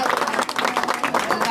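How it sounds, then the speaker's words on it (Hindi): A crowd at an outdoor political rally bursts into dense, continuous applause to welcome a former MP, with voices mixed into the clapping. "जोरदार तालियों से बहन जी का स्वागत करा जाए"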